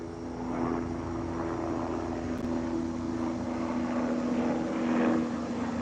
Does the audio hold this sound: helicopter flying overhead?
yes